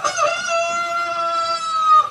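A large rooster crows once in a long, drawn-out, clear call, close and loud with no talking.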